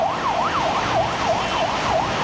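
An ambulance siren wailing in Dambulla, rising and falling in a rapid, regular cycle that stays loud and close throughout.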